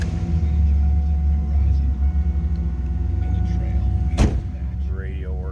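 A 2002 Pontiac Firebird Trans Am WS6 convertible's engine runs close by with a loud, steady, low rumbling idle, broken once by a brief sharp click or thump.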